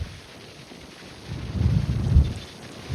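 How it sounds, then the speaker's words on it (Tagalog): Strong wind buffets the microphone at Dolomite Beach, a low roaring rumble that swells louder midway and keeps gusting, with no voices. "Yan, grabe, sobrang lakas ng hangin"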